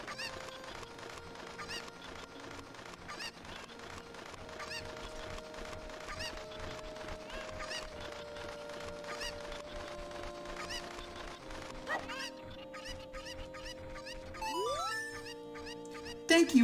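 Cucco chickens in the Ocarina of Time video game, set in Kakariko Village, give short clucks over steady game music, with a few honk-like calls and a rising chime near the end.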